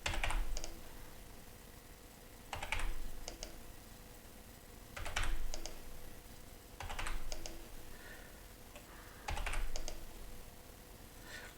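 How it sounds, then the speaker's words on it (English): Short bursts of typing on a computer keyboard, quiet and close, arrive in about five clusters of rapid clicks separated by pauses, with no talking. "simply just typing SE, snap to the end of this member"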